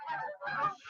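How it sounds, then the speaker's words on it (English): Canada geese honking in flight over a hayfield, two loud overlapping bursts of harsh calls close together, with no talk. "there's a bunch of geese that are flying up over my hayfield. Those are Canada geese."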